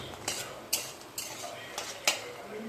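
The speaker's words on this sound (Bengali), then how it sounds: "এবার আমি এই সবজিগুলো দিয়ে দেবো" Vegetables go into a pan holding fried lentil dumplings: four or five sharp, fairly faint clattering knocks land at irregular intervals over a quiet, steady background, with no talking.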